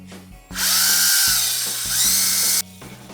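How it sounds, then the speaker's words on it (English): A power drill with a small bit whines loudly and steadily for about two seconds, its pitch dipping slightly as it bites into a car wiper transmission, then it stops abruptly. "I'm going to get a smaller drill bit."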